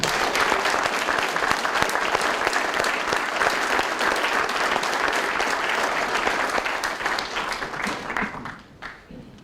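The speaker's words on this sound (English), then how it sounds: "Let's give a round of applause." Sustained, dense applause from an audience at a military police spur ride ceremony, steady and close before tapering off in the final second.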